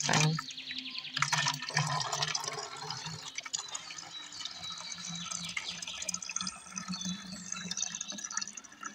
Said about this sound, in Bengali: আমি ভালো করে পানিটা ঢেলে নিচ্ছি